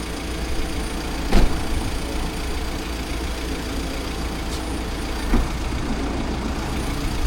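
A vehicle pulls up outside to pick up passengers, a steady, loud engine rumble with a couple of short thumps, with no talking.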